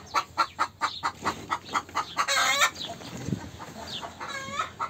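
Chickens cluck in quick repeated bursts, with a rooster's crow rising near the middle and more squawks after; farmyard setting, no talking.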